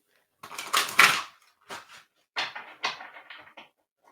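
A tarot deck is shuffled by hand in a few short, crisp riffling bursts separated by brief pauses, close and clear against silence.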